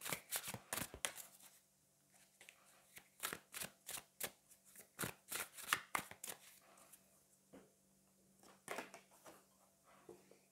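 Tarot cards are shuffled and drawn in quick bursts of crisp riffling and slapping, close and clear, with pauses in between and no talking.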